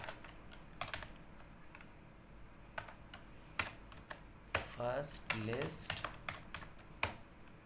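Typing code on a computer keyboard, scattered single key clicks building to a quick run of taps, close and light, with someone talking briefly over them.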